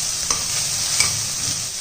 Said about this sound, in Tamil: இப்போப்பா நம்ம குடமிளகா, முட்டைக்கோசு எல்லாத்தையும் இதில் வதக்கிடுவோம்.